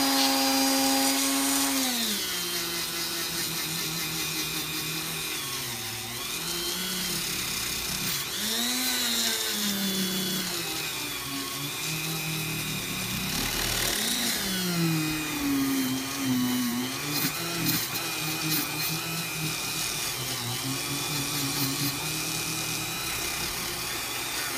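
A copper wire wheel spins against a vintage K&B 3.5 outboard engine, a steady loud motor whine with shifting pitch as the wheel presses and scrubs the metal continuously throughout.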